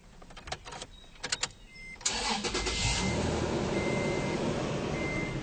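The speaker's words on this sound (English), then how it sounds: "So let's go start the truck." A truck engine starts up during an AC system service: a few clicks and a short cranking burst, then it catches into a steady, loud idle rumble that carries on to the end.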